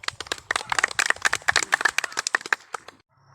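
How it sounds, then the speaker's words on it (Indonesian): Students applaud together indoors, a dense burst of rapid claps lasting about three seconds before stopping abruptly, with no talking. "tepuk tangan dulu untuk kita semua"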